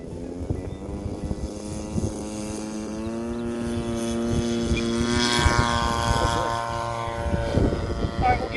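Seagull Models Vans RV-8 radio-controlled low-wing model airplane flying on a windy day, its propeller whine rising and falling as it passes, with people talking nearby.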